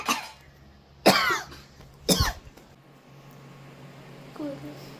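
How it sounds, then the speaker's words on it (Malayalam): Coughing fits after eating cut coconut at home, two sharp harsh coughs about a second apart, close and loud, followed by a faint low throat noise in a quiet room. "തേങ്ങ കട്ട് തിന്നോണ്ടാണ് ഇവിടെ ചുമച്ചോണ്ടിരിക്കുന്നത്"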